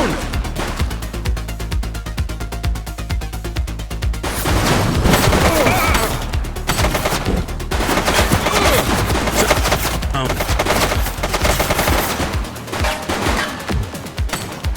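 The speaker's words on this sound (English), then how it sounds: "Shots fired!" Shootout in the police video game The Precinct: rapid, sustained bursts of gunfire crackle and rattle for many seconds, loud and dense, with heavier volleys midway and brief gaps, while voices call out underneath.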